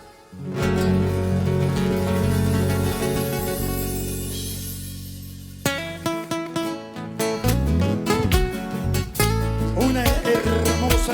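Andean band performing a piece at a virtual concert: a sustained melodic opening with flutes and strings gives way to a bouncy, rhythmic section with plucked strings and steady bass, full and loud throughout.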